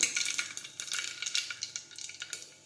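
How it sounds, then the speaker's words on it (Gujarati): Mustard seeds and cumin sizzle in hot oil for a stuffed brinjal curry, giving a steady close crackle with quick popping bursts and faint stirring clinks. "હવે આપણું તેલ છે તે ગરમ થઈ ગયું છે હવે આપણે તેમાં રાઈ અને જીરું નાખીશું"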